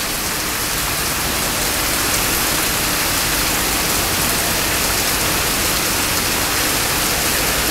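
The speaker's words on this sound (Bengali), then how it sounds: "জোরে বৃষ্টি নামছে" Heavy rain pours down steadily outdoors, a dense, loud, unbroken wash of noise with no pauses or voices.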